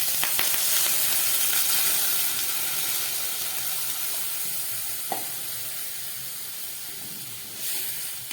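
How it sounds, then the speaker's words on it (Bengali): Water poured into a pan of fried spice paste bursts into a loud, broad hissing sizzle that slowly settles into a steady bubbling fry, with a faint clink partway through. "এবার আমি এর মধ্যে দিয়ে দিচ্ছি জল।"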